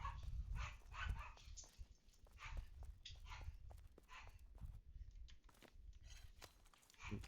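A dog barks repeatedly in the medieval video game Pax Dei, with sharp bursts spread irregularly through the clip over low rumbling, soft footstep-like sounds and faint background noise.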